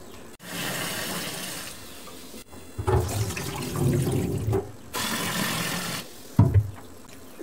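Soaked parboiled rice, six cups left eight hours in hot water, being washed in water, with splashing and running-water bursts in several separate bouts, close and moderately loud.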